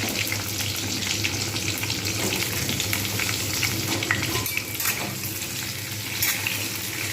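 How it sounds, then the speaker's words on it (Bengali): Potatoes and pointed gourd fry in a pan with a steady, dense sizzle that continues throughout, with faint stirring scrapes and no talking. "এইবার আমি এর মধ্যে আলু পটলটা একসঙ্গেই ভেজে নেব, ভালো করে লালচে করেই ভেজে নেব"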